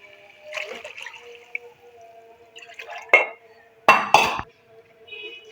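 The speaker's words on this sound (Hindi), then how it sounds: "हम पानी शामिल करेंगे।" Water poured into a pot of frying chana dal for a rice pulao, with splashing and sizzling bursts near the end after quieter kitchen clatter.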